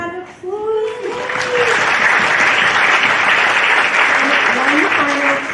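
Dense, steady applause from an audience at a science-week talk, filling the whole stretch at an even level, with a voice briefly rising over it near the start and again toward the end.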